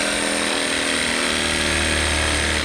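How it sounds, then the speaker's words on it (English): Sawzall reciprocating saw cutting through a furnace exhaust pipe while running new exhaust for a 90% furnace, a loud, continuous buzzing saw roar holding steady for the whole stretch up close. "When you're cutting it, you want to keep the butt of the sawzall up against the pipe"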